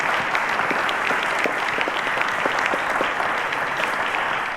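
Studio audience on a quiz show applauding contestants, a dense, steady wash of clapping at even loudness throughout, with no voices over it.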